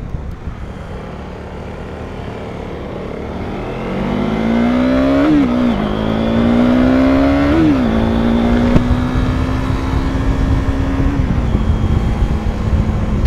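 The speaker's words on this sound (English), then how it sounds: "Although it's only a 390, this is a fun little bike. It feels faster than it actually is." A 2015 KTM 390 Duke single-cylinder motorcycle engine drones loudly while riding at about 80 km/h, its pitch climbing and dipping through gear changes amid steady wind noise, with no voices.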